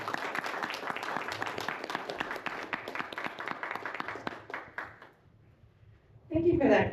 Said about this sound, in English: Sarah, everyone give her a round of applause.